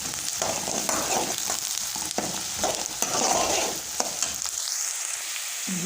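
Onions fry in a pan as the masala base for sarson saag, a steady close sizzle punctuated by repeated scraping stirs, with the hiss continuing as stirring pauses near the end.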